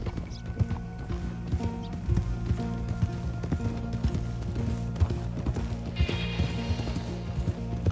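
Horse hooves clip-clopping in the Western game Red Dead Redemption 2 as riders approach stables, a steady, close rhythmic clopping with a brief whinny partway through and game ambience beneath.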